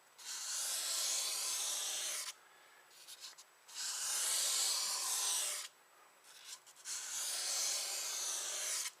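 Repeated strokes of sanding across a granite sink surface, a breathy abrasive rasp in long bursts with short pauses and light scuffing between them, close and fairly quiet.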